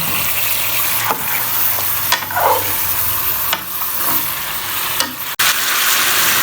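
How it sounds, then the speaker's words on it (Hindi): Steady sizzling of chicken frying in a pan, a continuous crackling hiss with occasional stirring scrapes and clinks, close by, with no talking. "चिकन हमारा जो है ना फ्राई हो चुका है।"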